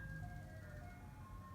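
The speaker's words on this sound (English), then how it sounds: "It's an ice cream truck." An ice cream truck's jingle sounds at a distance on a street: a faint, steady melodic tune that continues for the whole short stretch over low traffic rumble.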